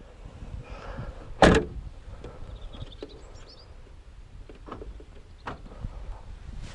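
One sharp, loud mechanical clunk of a 2020 Toyota Yaris boot latch releasing hands-free, followed by faint clicks and quiet whirring in a calm outdoor setting.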